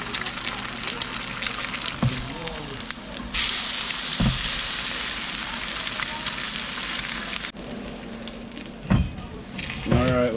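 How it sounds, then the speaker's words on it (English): Eggs frying in a pan at a winter camp, a steady close sizzle with a few clinks and scrapes, and brief talk at moments. "So I'm going to fry him a couple eggs."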